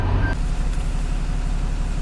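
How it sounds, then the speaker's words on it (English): A lorry idling right beside the listener on a street, a loud, close, steady low engine rumble with a brief tonal beep near the start, no talk. "Unfortunately, a lorry's just struck up right next to me."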